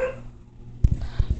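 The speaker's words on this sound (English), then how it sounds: "Sorry if you guys hear my dog in the background." A dog indoors gives a short cluster of a few quick barks or yips near the end, moderately loud, heard in a home background.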